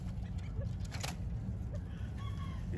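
Young five-month-old pullets cluck softly and intermittently nearby, with a steady low background hum and no talking.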